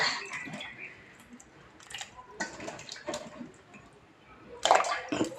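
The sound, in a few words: washing mango pieces in water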